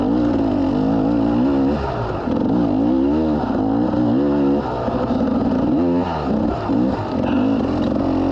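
An enduro motorcycle, a two-stroke dirt bike, rides at speed with the engine revving up and down through gear changes, loud and close throughout with steady wind rumble.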